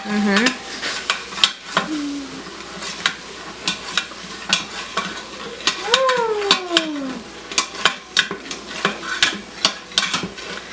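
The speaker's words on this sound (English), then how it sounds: "why don't you mix that all around?" Hamburger soup ingredients stirred in a pot, with irregular clinks and scrapes of a utensil against the pot over a low background, plus a couple of squeaky high-pitched sounds partway through.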